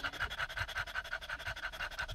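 A dog pants rapidly and steadily in an even rhythm, close by and alone, in a backyard setting.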